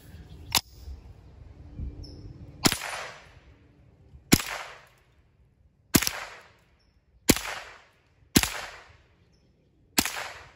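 Six sharp single shots from an M&P 15-22 rifle fired outdoors, evenly spaced about every one and a half seconds, each a crisp crack with a short fading tail.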